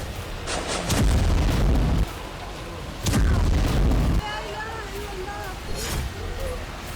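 Gunfire and explosions ring out in a clash between the Israeli army and fighters near the Tulkarm camp in the West Bank, with two long, heavy booming bursts amid constant rumbling noise and voices.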